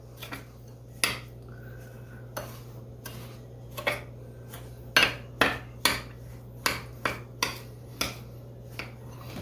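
A spoon stirring a mixture with 3/4 cup of granulated sugar for sopapilla cheesecake pie, heard as a run of sharp, close clinks and taps against the bowl over a steady low hum, with no talk.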